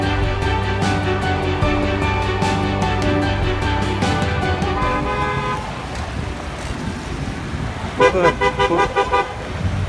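Busy traffic moves through the Uzbek town of Hodjabad, with repeated car horn toots over a close rumble of engines and road noise, and a burst of rapid honking near the end.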